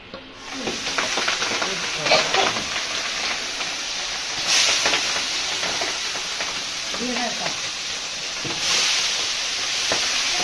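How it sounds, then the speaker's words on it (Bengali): Fish heads cut into pieces fry in a pan, giving a continuous broad hiss and crackle with occasional spatula scrapes and a couple of louder sizzling surges, heard close and without speech. "মাছের মাথাগুলো পিস পিস করে কাটা, আমি এবার ভেজে নেব।"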